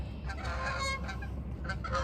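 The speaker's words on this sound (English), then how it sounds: "2 geese are about to fly right over my head." Two geese honk as they fly low overhead outdoors, a close, repeated run of nasal calls over steady background noise.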